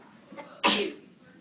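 A single sharp sneeze, brief and fairly close, in a quiet classroom-like room with a faint breath just before.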